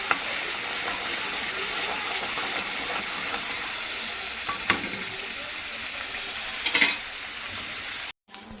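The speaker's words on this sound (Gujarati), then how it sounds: "હું આને હવે સાતળી લઈશ." Garlic and tomato paste sizzles steadily in hot oil in a pan, a close, continuous frying hiss with a few soft stirring scrapes before it cuts off near the end.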